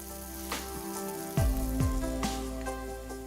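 Tomatoes, sugar and spices for sev tamatar sabzi sizzle in a pan, a constant close crackle with a few utensil knocks and a low tonal hum beneath, no voices.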